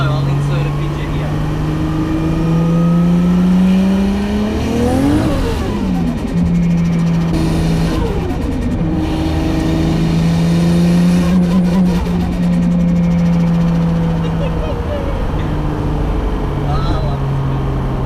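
A 500HP Nissan R33 Skyline sedan's engine drones steadily and climbs in pitch through rising revs, falling back between pulls, loud and close for most of the stretch.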